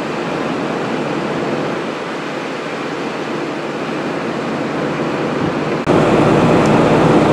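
A Class 222 Meridian train running as an empty coaching stock movement, heard as a loud, steady broadband roar of wheels and engine passing close by, with a sudden shift in tone near the end.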